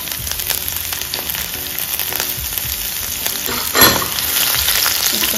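Chopped garlic and green chili fry in hot oil for a veg Manchurian, giving a steady, bright sizzle close by with a brief louder crackle midway and no talking.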